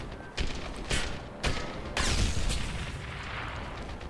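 Gunfire and explosions from the video game Medal of Honor: Airborne, set in a factory complex: several loud, sharp reports at uneven intervals, then a heavier blast that rolls into sustained noisy rumble, with no speech.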